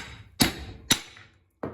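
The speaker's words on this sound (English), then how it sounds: "So I need to start with hammering these out and putting those in. Check it out. And you just pound these suckers out." Wheel studs are hammered out of a hub during a 5-lug brake conversion, with three sharp metallic hammer strikes at uneven intervals, close and loud, each with a short ringing decay.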